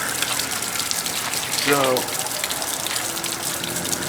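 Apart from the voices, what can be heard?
water spraying from outboard motor flushing muffs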